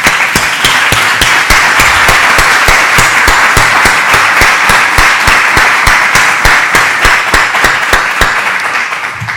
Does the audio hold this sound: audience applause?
yes